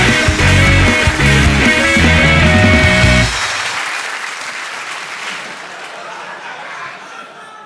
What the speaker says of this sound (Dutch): Graag een kletterend applaus voor de volgende cover